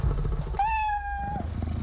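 A single drawn-out house cat meow, clear and close, in a television commercial, with a faint music or ambient bed running underneath.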